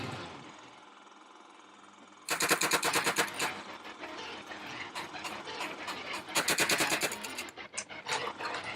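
Paintball markers firing at a paintball field set in a family park, heard as loud rapid bursts of sharp shots, some in quick strings, after a quieter stretch of background hum.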